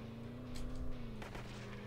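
Arcade-style car engine in the zombie-driving game Earn to Die, a steady droning hum with a brief louder burst midway, heard alone at moderate level.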